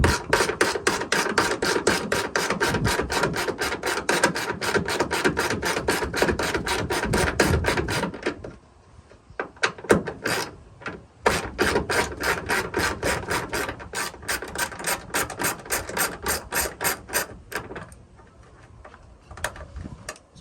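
Ratchet wrench with a 10mm socket working the tail light bolts on a third-generation Toyota Tacoma, long runs of fast, even clicking close up, broken by short pauses and restarts.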